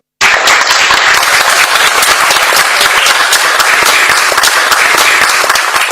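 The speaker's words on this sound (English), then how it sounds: "let us applaud Isha and the entire retail and consumer product teams" Shareholders at the Reliance Industries annual general meeting break into loud, sustained applause, a dense wash of clapping from a large crowd that holds steady without a voice on top.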